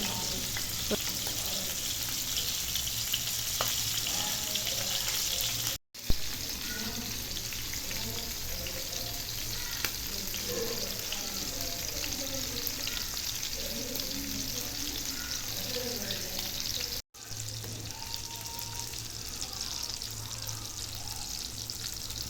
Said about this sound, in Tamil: இப்போ ஒரு பேனில் தேவையான அளவு எண்ணெய் சேர்த்துட்டு எண்ணெய் நல்லா சூடானதுக்கு அப்புறமாட்டு காடையை போட்டு பொறிச்சு எடுத்துக்கலாம்